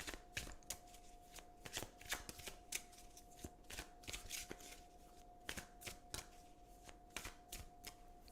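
Oracle cards being shuffled by hand, a quiet, close series of soft riffling flutters and taps repeating every half second or so, with a faint steady hum underneath and no talk.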